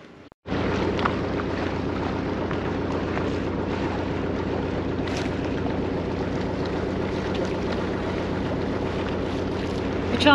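A tour boat cruising near Üçağız on the Lycian coast, its engine holding a steady low drone with broadband water and wind rush throughout, close and continuous with no talk.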